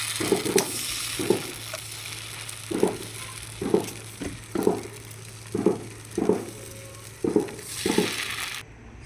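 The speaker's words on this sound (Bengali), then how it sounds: "এইভাবে আগের মতো করে গোলাটাকে আমি তাওয়ার মধ্যে ছিটিয়ে ছিটিয়ে দেবো।" Rice flour batter sprinkled onto a hot oiled tawa, making about ten short bursts of sizzling at a steady, near-even rhythm, each one fading quickly over a quiet low hum.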